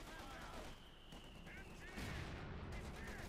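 Machine gun fire from the video game Company of Heroes 2, including a veteran .50 cal, crackling in steady bursts beneath a continuous layer of game battle noise, with a voice talking over it.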